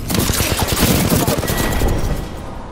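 Loud, continuous automatic gunfire in a video game, a dense rattling barrage of rapid shots that fills the whole stretch without pause, close and harsh.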